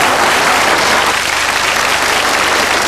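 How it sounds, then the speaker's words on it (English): A studio audience on a 1981 UK television game show bursts into loud, dense, continuous applause that fills the whole moment, with no voices rising above it. "Big round of applause from ladies and gentlemen."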